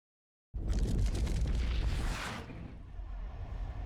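Explosions in the real-time strategy game C&C Generals Zero Hour: a sudden loud blast erupts after a moment of silence, followed by a dense crackling rumble that settles into a lower, fading roar.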